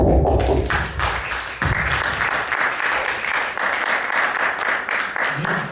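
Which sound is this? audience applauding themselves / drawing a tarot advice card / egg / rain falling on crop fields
audience applauding themselves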